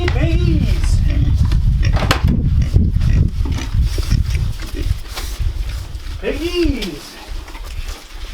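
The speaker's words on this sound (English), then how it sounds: "if you were able to hear over the noise of the pigs" Pigs on a goat farm squeal and grunt loudly and close by, with repeated rising squeals over a constant grunting din, while a person talks and calls out over the noise.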